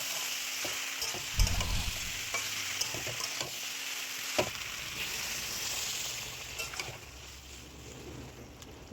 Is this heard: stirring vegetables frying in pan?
yes